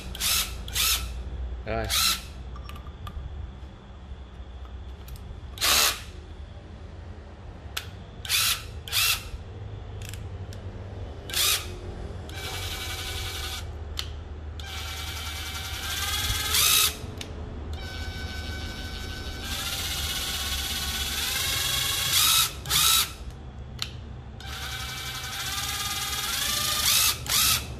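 A used Japanese cordless battery drill is switched between drill and hammer modes, whirring in repeated short bursts and longer runs, with intermittent ratcheting clicks, up close while someone speaks briefly.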